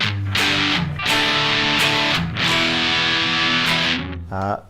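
Electric guitar through a Boss DS-1 distortion pedal with the tone rolled back for a thumpier, bass-heavy sound, sustained distorted chords ringing in a few loud phrases with brief breaks, close and alone.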